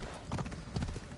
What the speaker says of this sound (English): Let's take the horse.